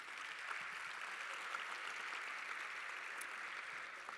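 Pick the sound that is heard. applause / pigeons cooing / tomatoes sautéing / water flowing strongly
applause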